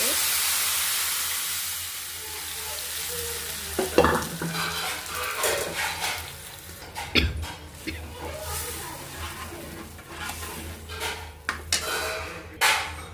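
Cooked lentils for tamarind-leaf dal tipped into hot tempering in a pan, hissing loudly at first, then settling into an irregular sizzle broken by clattering stirring strokes.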